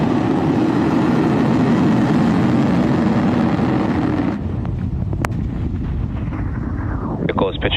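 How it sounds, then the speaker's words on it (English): SpaceX Falcon 9 rocket at liftoff, a heavy, wind-buffeted roar that stays loud and dense, then thins to a lower rumble partway through, with crackles and a few sharp ticks near the end. "Liftoff of Falcon 9."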